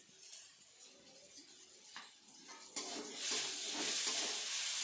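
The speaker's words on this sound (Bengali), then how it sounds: "মশলাগুলো ভালোভাবে ভাজা হয়ে গেছে" Spices fry in a pan with turmeric for Bengali-style chicken kosha, first a faint sizzle with occasional spatula scrapes and clinks, then a much louder, steady hiss partway through as stirring continues.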